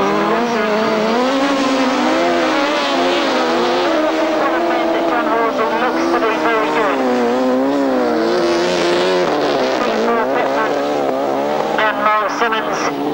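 Motorcycles race around a grasstrack at a 1995 meeting, engines screaming and rising and falling in pitch as they tear along the back straight, loud and continuous under a commentator's voice.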